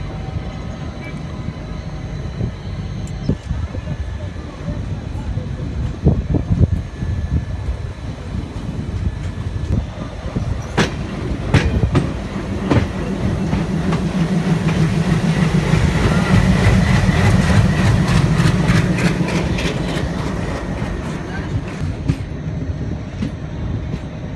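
The Udyan Express rolls along the rails approaching Solapur in Maharashtra, a steady rumbling drone with scattered clicks and clatter that swells louder in the second half.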